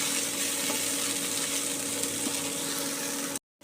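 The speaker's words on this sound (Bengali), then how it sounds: "এবার বরবটিগুলো ছেড়ে দেব, পটলগুলো ছেড়ে দেব, দিয়ে ভালো করে নেড়ে ভেজে নেব।" Yardlong beans and pointed gourd sizzle loudly in a hot pan of oil for a mixed vegetable curry, a dense, continuous frying hiss with stirring underneath, cutting off abruptly at the end.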